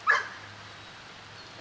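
A dog held by animal services after a police arrest gives a single short, fairly faint bark at the very start, followed by quiet background hum and no talk.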